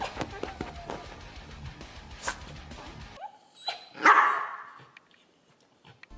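A dog barks and yelps in short bursts, loud and near, mixed with scuffling and other noises and a sharp cry partway through.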